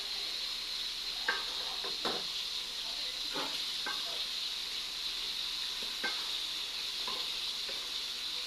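Fish fries in a pan of cooked spice masala with a steady close sizzle, broken by several short scraping stirs and clinks of a utensil against the pan.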